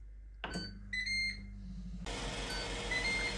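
A Ninja Foodi air fryer finishing a dehydrating cycle gives a short series of clear electronic beeps, close and alone, with a steady fan hum underneath that swells louder once the beeping stops.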